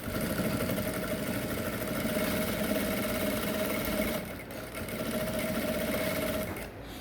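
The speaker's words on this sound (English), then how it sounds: "Just carefully sew it down all through." A sewing machine runs steadily as it stitches neck piping on an Ankara top, a close, even whirring hum with one short pause midway and no speech.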